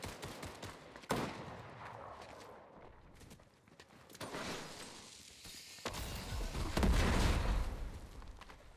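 Gunfire in a Fortnite battle royale match comes as scattered sharp shots and bursts, some near and some farther off, with heavier rumbling blasts toward the end.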